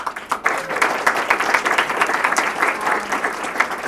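An event audience at an AI startups and venture capital gathering gives a round of applause, a lively crowd clapping with slight surges and fades across the moment.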